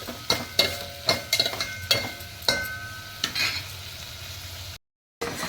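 Onions with jaggery frying in a pan, soft sizzling punctuated by distinct spatula scrapes and taps against the pan, several separate strokes at an uneven pace, close and without talk.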